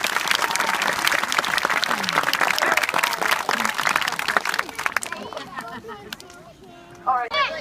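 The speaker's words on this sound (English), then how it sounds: "Give her a big round of applause." Applause from a crowd at a safari park show: a loud, dense burst of clapping that fades after about five seconds, giving way to people talking.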